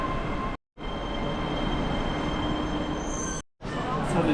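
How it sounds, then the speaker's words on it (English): A metro train arrives at Daxigou station in Chongqing, a loud steady rumble and hum of the railcars close by, broken by two brief cuts to silence. "And here comes the train."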